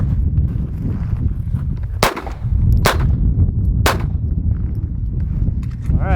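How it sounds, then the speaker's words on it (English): Three sharp .22 LR rifle shots fired at body armor, evenly spaced about a second apart over steady low background noise, with no talking. "So this is 3 rounds of 22 LR."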